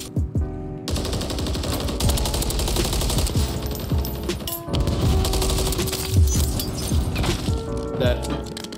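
Rapid automatic gunfire from Call of Duty: Modern Warfare III ranked play, with a red dot sighted weapon, fired in dense sustained bursts with a brief pause near the middle, loud and close alongside game sounds.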